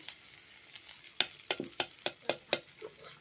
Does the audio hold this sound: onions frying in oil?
yes